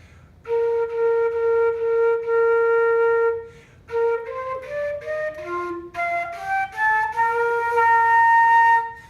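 A flute plays a long held note with a crisp start, then a run of short, cleanly separated notes climbing upward, each with a distinct tongued attack.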